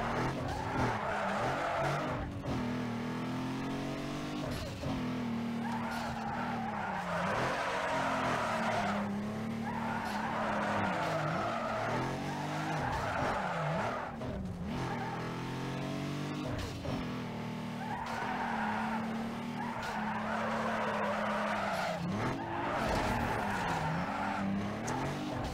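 An SUV skids in the racing video game Need for Speed Underground 2, with tires squealing in long wavering bursts over a continuous droning engine that rises and falls as the vehicle slides repeatedly through turns.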